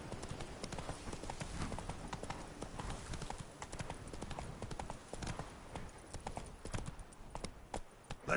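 Roach, Geralt's horse in The Witcher 3 Blood and Wine, gallops with rapid, even hoofbeats that stay close and steady throughout, a dense clip-clop over quiet ambient game sound.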